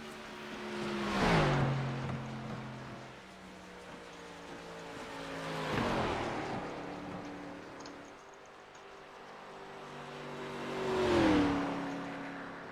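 Stock-style race cars on the Indianapolis oval in iRacing roar past three times, each engine note swelling loud and sweeping down in pitch as the pack passes, then fading before the next.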